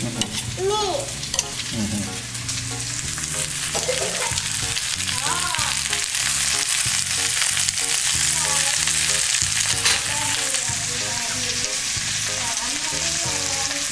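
Potatoes frying in butter in a pan, a constant loud sizzle and crackle with occasional stirring scrapes and clinks, plus faint background voices and bird calls.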